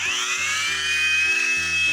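A rotary polisher runs on car paint at speed 1 with no pressure, giving a steady, close high-pitched whine over a low, uneven mechanical hum.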